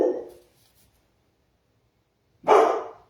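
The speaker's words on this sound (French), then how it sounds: "j'ai un chien qui s'exprime lui aussi" A single dog's bark or short yelp bursts out loud and close after a stretch of near silence, following a voice that fades out at the start.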